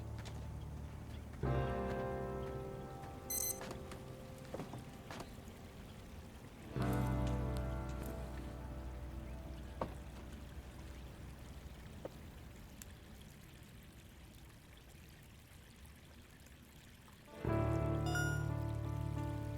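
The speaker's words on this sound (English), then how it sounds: "There's something about flowing water that's just so soothing." Flowing water trickles and pours softly in the horror game Project Songbird, a quiet steady ambience broken by a few louder thumps and splashes.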